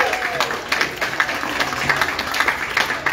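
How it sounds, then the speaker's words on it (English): A church congregation at a beach worship service applauds the hospitality and membership volunteers, giving a dense, fairly loud burst of clapping that carries on throughout with no break. "can we give a round of applause for hospitality and membership?"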